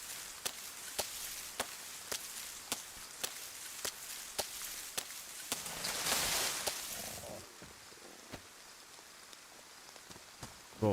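Rain in the game DayZ on the Livonia map forms a soft, steady patter, swelling briefly midway, under a regular series of sharp, close ticks or thuds.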